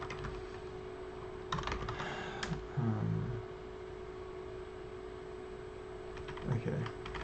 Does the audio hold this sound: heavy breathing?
no